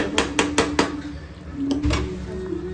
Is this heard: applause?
no